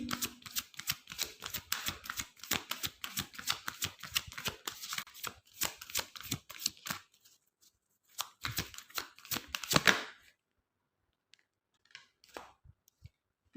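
Tarot cards being shuffled: rapid, crisp riffling and flicking up close for several seconds, then a pause, another brisk burst, and a few faint soft taps as it quiets.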